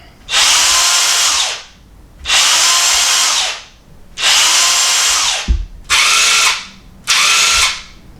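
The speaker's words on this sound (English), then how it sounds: "you can hear the break is much more violent and much more present on the 889 versus the Dewalt 899" A DeWalt cordless impact wrench revs loudly in five short bursts, each ending in an abrupt electric-brake stop, with brief pauses between them.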